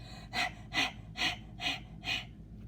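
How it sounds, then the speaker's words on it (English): A hot tiger panting: five evenly spaced, breathy huffs about half a second apart, close and clear, with no voices over them. "It looks like Tiger is panting"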